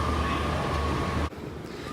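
Steady low rumble and rattle of a Washington DC metro subway train in motion, continuous and close, with a brief drop in level near the end as the noise shifts.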